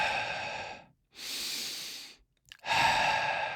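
Three deep, airy breaths drawn in through the diaphragm, as practised for didgeridoo playing, each about a second long with short pauses between, close and fairly loud with no talking.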